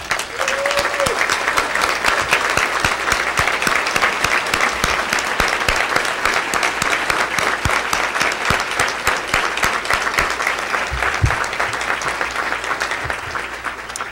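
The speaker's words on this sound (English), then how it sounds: "Teachers of Excellence, would you please stand so that we can applaud you once again?" Sustained applause from a community breakfast audience honoring the Teachers of Excellence, steady and dense throughout with no break and no voices over it.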